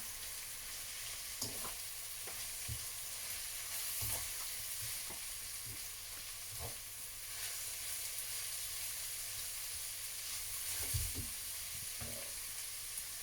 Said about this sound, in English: So get all your ingredients in the wok. Just give it a good fry mixture.